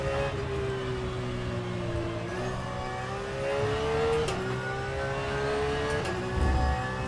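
Race car engine lapping the Sebring track in a racing video game, loud and steady, with the pitch climbing through the gears and dropping briefly at each shift, repeating several times.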